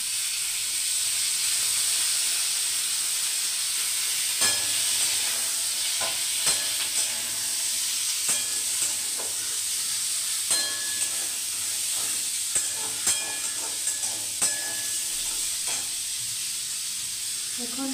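Paneer dish sizzling in a pan on a home stove, a continuous close hiss of frying broken by repeated scraping clicks of a spoon stirring at irregular intervals.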